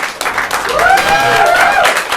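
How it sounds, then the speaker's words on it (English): Audience clapping for the first challenge at a Theatresports improv marathon, a loud steady wash of applause with some faint tonal whistling or singing layered through it. "So let's clap for our first challenge."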